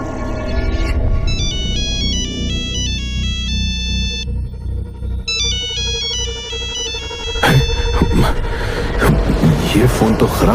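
A mobile phone ringtone plays loudly and repeatedly as an incoming call with no caller name, in a haunted house setting in a Hindi horror story; the melodic ringing continues, joined by rumbling and rustling near the end.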